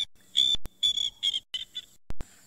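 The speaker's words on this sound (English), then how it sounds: "Ah, can you hear the noise? Crested barbet, that beautiful little rock star." Crested barbet calling from the wild, a sequence of bright, buzzy trilling bursts in quick succession, fairly close and clear with no talk.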